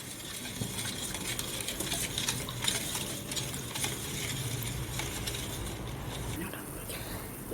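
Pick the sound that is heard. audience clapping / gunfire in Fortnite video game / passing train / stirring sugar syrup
stirring sugar syrup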